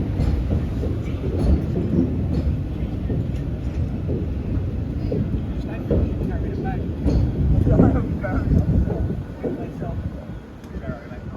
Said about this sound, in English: Departing out now is the 12:20 South Western Railway service from Portsmouth Harbour to London Waterloo